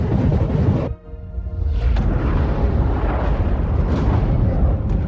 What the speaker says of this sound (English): Commence suborbital saturation bombardment.